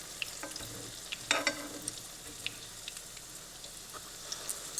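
Yeast-free kefir pancakes sizzle quietly in a frying pan, with sharp clicks and taps as a fork edge slides under them to flip them, plus a steady crackle of hot oil.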